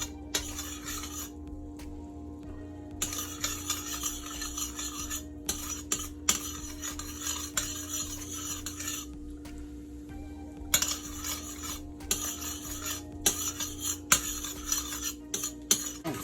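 Pieces of pork are tossed around in a pot for a Jamaican stew, producing repeated soft scrapes, clinks and stirring rattles in irregular bursts over a steady background hum.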